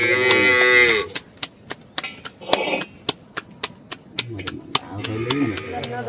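A cow in a Nepali mountain village during rain moos loudly and nearby at the start and again later, with sharp intermittent knocks or chopping between the calls.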